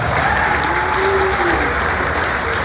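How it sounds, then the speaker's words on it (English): A dinner audience with elected officials applauds steadily throughout, dense, even clapping that holds a constant level, with faint tonal sounds drifting over the crowd noise. "let's give him a round of applause"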